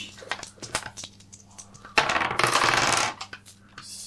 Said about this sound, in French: donc tu jettes 2 dés